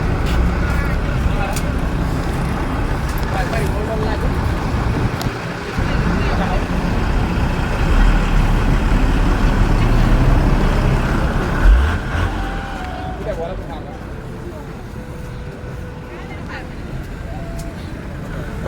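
Fast road traffic streams through a street in Dakar, Senegal: a continuous loud roar of cars, trucks and buses rushing past, easing somewhat toward the end.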